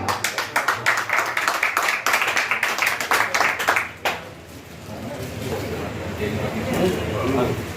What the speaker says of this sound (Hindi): आप लोगों की जोरदार तालियों की गड़गड़ाहट के साथ